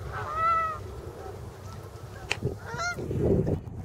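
A few loud honks from flying geese, one near the start and another near the end, separated by a brief quiet stretch over faint outdoor background noise.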